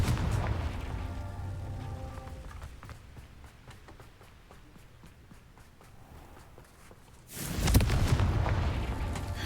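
The Confringo blasting spell goes off in Hogwarts Legacy, a sudden loud explosive burst late in the clip after a stretch of rumbling game ambience and scattered footstep-like clatter.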